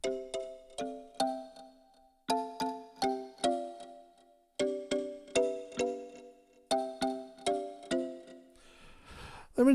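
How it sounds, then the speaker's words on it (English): A Medeli AKX10 keyboard plays its African kalimba style, a repeating pattern of plucked, tine-like notes in short bouncy phrases that decay quickly, clean and unaccompanied, ending with a brief noisy burst. "And then we've got an African kalimba."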